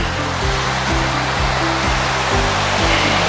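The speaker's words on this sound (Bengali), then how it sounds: "এখান থেকে এইভাবে জলটা ওখানে পড়ছে" Water pours from a dam into a large semicircular stone pool, a loud, continuous close roar of rushing water that stays steady throughout.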